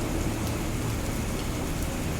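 Steady, dense rainfall in a village setting, a continuous close hiss of rain on surfaces with no pauses and no talking.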